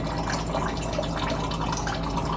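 Water trickling from exposed pipes down into a well pit during a well replacement dug with a Volvo EWR150E excavator, a steady close splashing flow that holds constant throughout, with no talking.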